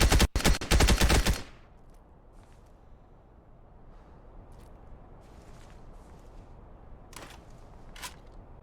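Gunfire in the video game Beyond Enemy Lines 2, a rapid loud burst of shots at the start, then quiet ambience with a few faint distant cracks later on.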